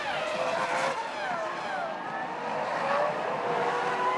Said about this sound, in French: Admirez ce double dépassement sur Kimi Raikkonen et Ralf Schumacher, son propre équipier.